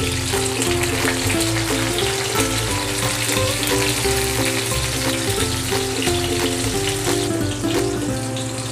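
Chapli kababs fry in a pan over a medium flame, giving a steady, close oily sizzle that runs throughout, with tuneful background music layered over it.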